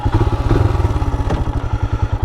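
A Royal Enfield Himalayan motorcycle rides off with a close, loud single-cylinder engine thumping in a steady, rapid pulse.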